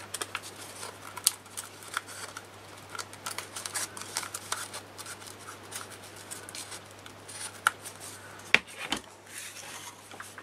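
Scissors cut through a cardboard toilet paper roll with steady, close rustling snips and scraping, a continuous papery crunch punctuated by a few sharper clicks.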